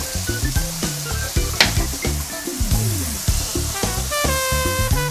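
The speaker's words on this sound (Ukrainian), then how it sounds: "наші печериці, як бачите, гарно смажаться" Button mushrooms fry in a pan with a steady, close crackling sizzle that runs throughout, partly layered under background music.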